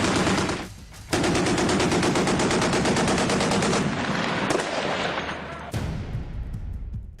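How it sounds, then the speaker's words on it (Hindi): The super rapid gun on a Type 055 naval destroyer fires fast, continuous rounds in a loud, sustained roar. The firing pauses briefly near the start, then resumes and tapers off toward the end. "शानदार सुपर रैपिड गन का मजा लीजिए"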